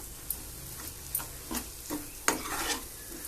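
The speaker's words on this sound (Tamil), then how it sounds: "போட்டு நல்லா வதக்கிடணும்." Raw mango thokku with chili powder being stirred and sautéed in a pan over low heat: a soft sizzle broken by a few separate scraping strokes of a spoon, with no talking.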